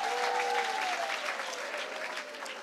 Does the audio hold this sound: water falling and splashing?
no